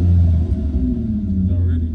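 Low, steady rumble of a V6 Chevrolet Impala engine idling close by, continuous throughout with someone talking over it.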